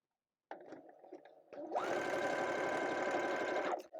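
A sewing machine runs a straight stitch on fabric, a few short hesitant stitches and then a steady fast mechanical whirring burst lasting about two seconds, close and clear before stopping.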